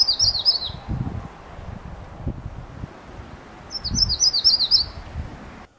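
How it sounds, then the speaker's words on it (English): A male magnolia warbler gives two short, high whistled songs several seconds apart, each a quick run of notes, over rustling wind and low background noise outdoors. "The male magnolia warbler sings a very short 1-second song, a whistled weta weta weta, with the last notes generally being the loudest."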